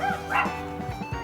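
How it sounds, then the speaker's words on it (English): Dogs bark and yip excitedly nearby in a quick burst of overlapping barks and whines, with outdoor background noise beside a smoker. "Dogs are excited."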